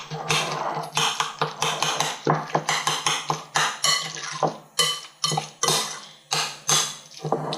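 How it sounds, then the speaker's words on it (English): A utensil chops and mashes avocados in a bowl for fresh guacamole, making a quick, uneven series of close, sharp taps and scrapes with no talking. "If you have some pieces that are too big, the avocados, just continue to keep chopping them up."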